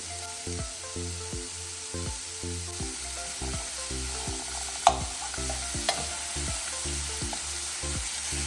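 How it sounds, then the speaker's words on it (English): Butter sizzles in a pan alongside pieces of sirloin steak, a steady close frying hiss with regular knocking from stirring and two sharp clicks partway through. "I'm going to add a tablespoon of butter right in the middle."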